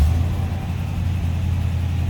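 A 1971 Oldsmobile Cutlass Supreme convertible's engine idles steadily, a deep, even rumble close by with no pauses or revving.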